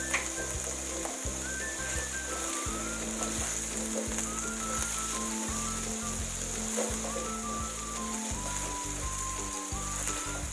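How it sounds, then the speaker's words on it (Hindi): Onions and chillies fry for Karachi-style chana chaat, giving a steady, close oil sizzle with a soft crackle that runs the whole time, with faint tonal music behind it. "प्याज भी बस 1 मिनट तक भूनेंगे।"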